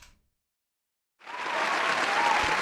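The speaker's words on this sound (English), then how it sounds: "Can we get a bit of clapping for the audience here?" An audience claps at a live anime review show, starting abruptly after a brief quiet moment and building into steady, dense applause that holds loudly to the end.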